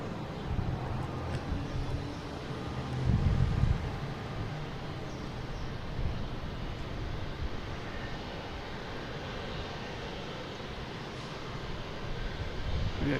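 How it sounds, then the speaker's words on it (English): A Korean Airlines jet taxis at Boston Logan International Airport, a steady distant engine whine and rumble droning continuously, with a brief louder swell partway through. "We got Korean Airlines coming down taxiway there."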